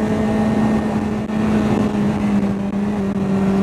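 A motorcycle riding over a sidewalk, its engine giving a steady, close, fairly loud drone with a brief dip partway through and no talking.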